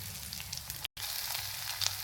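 Cumin, garlic and curry leaves sizzle steadily in hot oil in a pan, a close, continuous frying hiss with a brief break in the middle and no talk.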